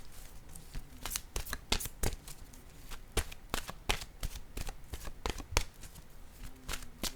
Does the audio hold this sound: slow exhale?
no